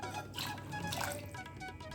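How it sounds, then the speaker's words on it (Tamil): Water pours into a pressure cooker holding moong dal, a faint close splashing and trickling that lasts a couple of seconds. "ஸோ அதுக்கு 3 கப் அளவுக்கு தண்ணி சேர்த்துக்கிறேன்"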